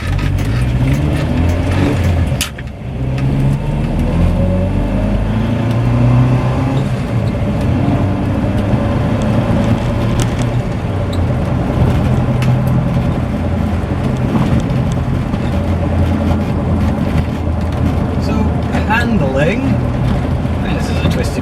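Morris Marina car engine idling very low and then driving on a rough, twisty road, a steady close engine drone with road rumble running throughout.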